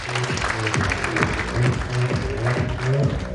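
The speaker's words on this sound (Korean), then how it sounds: "여러분 큰 박수 부탁드립니다" Audience applause breaks out at a Korean horse industry association inauguration ceremony, a short burst of clapping from a seated crowd in a hall, fairly loud with a little murmuring underneath.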